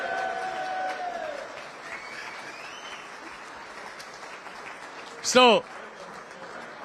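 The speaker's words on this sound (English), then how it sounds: "Give him a round of applause," An audience gives a continuous round of applause while someone talks over it, and a short rising whoop cuts through near the end.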